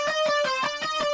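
A repeating lead guitar phrase from an electronic song's main drop, looping in short rhythmic pulses at moderate volume with a steady bright tone.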